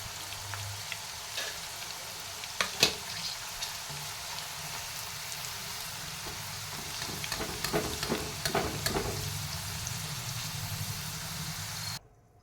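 Fresh green peas fry in a pan with a steady soft sizzle and scattered popping crackles, plus a few stirring scrapes. The sound grows busier midway and stops abruptly near the end.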